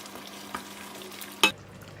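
Lemongrass and asam keping fry in a pan for asam pedas ikan kembung, giving a soft, close sizzle broken by two sharp clacks of stirring, with no voices.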